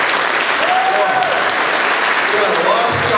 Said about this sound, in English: How about a round of applause for the scouts?